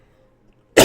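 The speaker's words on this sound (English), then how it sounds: "I hate coughing on camera" A single sharp cough bursts out close by after a moment of near silence.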